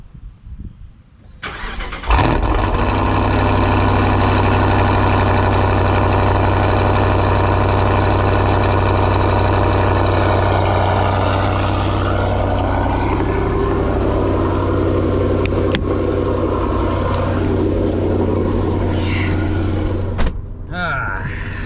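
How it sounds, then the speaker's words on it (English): A car engine cranks and fires on a cold start, then settles into a steady, loud, close idle that drones on evenly for nearly twenty seconds before cutting off near the end. "We're going to do another cold start."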